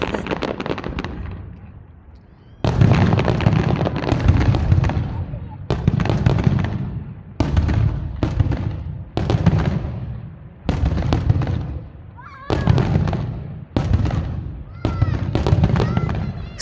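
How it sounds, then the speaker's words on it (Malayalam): Fireworks go off in front of a villa for UAE National Day, a series of loud nearby bursts with crackling tails, roughly ten blasts spaced a second or two apart, each booming then fizzling into brief quiet. "സോ നിങ്ങൾ ഈ കാണുന്ന ഫയർ വർക്ക്സ് വേറെ എവിടെയല്ല കേട്ടോ, ഞങ്ങളുടെ വില്ലയുടെ ഫ്രണ്ടിലാണ്."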